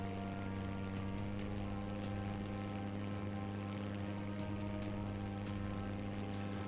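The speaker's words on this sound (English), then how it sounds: "Restarting the engine." A steady, droning aircraft engine hums continuously in the Plane Mechanic Sim game, a 303 Squadron Battle of Britain era plane running with a constant low rumble and faint ticking on top, no voices.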